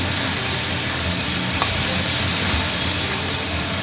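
Chilli paneer with soy sauce and vinegar fries in a pan, giving a loud, continuous sizzle and hiss while being stirred, with one faint scrape of the spoon partway through.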